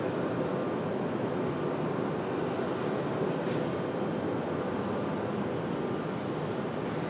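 A jet airliner takes off from runway 23 right at Raleigh-Durham International Airport, heard as a steady broad engine roar that holds at an even level throughout, with no talking.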